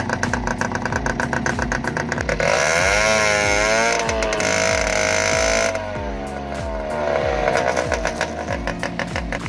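A small E-ton TXL 50 engine runs after a CDI replacement, its rapid buzzing putter rising and falling in pitch as it is revved, loud and close with no talk.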